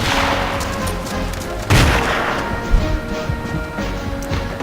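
Sniper rifle gunfire in the video game Battlefield 2, one loud sharp shot with a booming tail amid a continuous din of distant battlefield gunfire and thuds.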